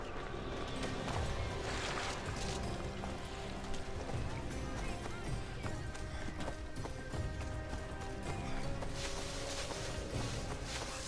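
Steady hoofbeats of a horse clip-clop at a running pace throughout, loud and continuous over a dense background mix, in Assassin's Creed Odyssey.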